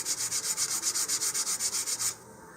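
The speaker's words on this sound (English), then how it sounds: "go ahead and sand the faces of the balsa, and here I recommend using a sanding block or a sanding tee" A sanding block rubs back and forth across balsa wood in quick, even strokes, about a dozen rhythmic rasps up close before stopping.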